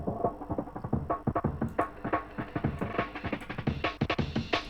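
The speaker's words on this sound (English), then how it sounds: "Then you've got the breakdown slash build up." Breakdown and build-up section of an electronic track, a dense, continuous stretch of rapid rhythmic hits over full-range sustained layers, steady and alone at moderate level.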